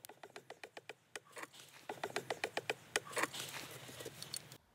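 A brass fitting's nut is tightened onto polyethylene water pipe, giving a run of small, quiet, crisp crunching clicks in an irregular rhythm, close up.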